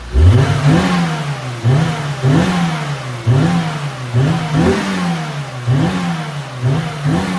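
A McLaren 720S GTR race car engine revs repeatedly, close and loud, each blip rising and falling in a rough, uneven rhythm of about eight revs over the idle.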